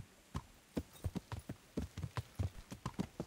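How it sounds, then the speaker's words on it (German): Steady hoof clip-clops of a horse walking in the video game Kingdom Come: Deliverance, a regular rhythm of soft thuds repeating for several seconds with no voices. "Lassen wir das lieber runterlaufen, das Pferd."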